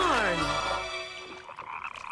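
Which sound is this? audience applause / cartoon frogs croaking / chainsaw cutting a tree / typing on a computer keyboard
cartoon frogs croaking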